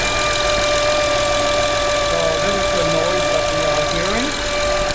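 A 2011 Honda Odyssey Touring 3.5 V6 runs with a steady engine-bay hum, close and continuous, carrying faint low gurgling wavers and a few steady whining tones throughout.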